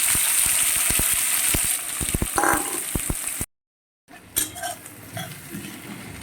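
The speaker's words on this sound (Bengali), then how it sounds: "তেল গরম হয়ে গেছে গোটা গরম মশলা ফোড়ন দিয়ে দিলাম এবার কুচি করে রাখা পেঁয়াজটাও দিয়ে দিলাম" Chopped onion and whole garam masala fry in hot oil with a bright sizzle and quick metallic spoon clinks against the pan, then a short silence and quieter stirring.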